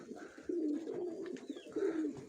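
Mykolaiv pigeons coo close by in two soft, throaty bursts with a short pause between them, and no talking over them.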